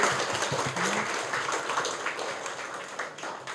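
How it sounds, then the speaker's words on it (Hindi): An audience at an inauguration and anniversary celebration claps together, a steady wash of hand claps lasting several seconds, moderately distant with a faint voice or two underneath. "तो एक बार जोर से सब ताली बजाएंगे।"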